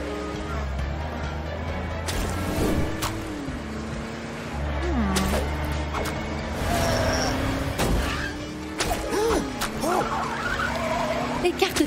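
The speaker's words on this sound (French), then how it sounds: "Regarde, le camion araignée le poursuit." A cartoon spider truck revs and roars through a chase, its engine rising and falling under frequent sharp skids, impacts and whooshing effects, with animated voices talking over the action.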